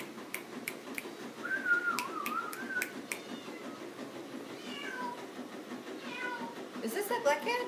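A black cat meowing in a veterinary setting, a drawn-out wavering meow followed by a few shorter ones, faint and close, with people talking quietly and some sharp clicks.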